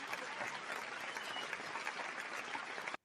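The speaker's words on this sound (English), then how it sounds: "Let's just give him a well-deserved round of applause" Audience applauding a speaker at a lecture event: dense, steady clapping from a sizable crowd, fairly loud and continuous for about three seconds before cutting off abruptly.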